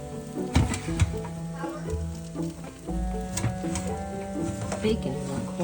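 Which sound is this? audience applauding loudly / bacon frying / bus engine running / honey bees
bacon frying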